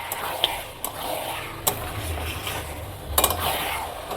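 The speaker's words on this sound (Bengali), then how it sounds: "এবার আমি ভালো করে এটাকে কষিয়ে নেব" Chicken curry masala is sautéed in a pan: a soft continuous sizzle with occasional sharp clinks and scrapes of a spoon against metal, including a quick double knock late on.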